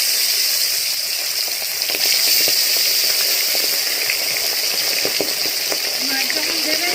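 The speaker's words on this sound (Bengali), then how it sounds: "তেল গরম হয়ে গেছে, এবার আমি মাছ দিচ্ছি।" Tilapia fish fry in hot mustard oil with a continuous bright sizzling hiss that stays close and even, with faint crackles scattered through it.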